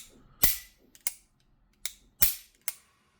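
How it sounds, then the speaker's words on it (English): A Beretta 92S pistol's heavy double-action trigger is pulled and the hammer drops, giving five sharp, close metallic clicks spaced irregularly over a few seconds with no talking. "The hammer is recocked by pulling the trigger. It's a really heavy but smooth, I'd say, double action trigger."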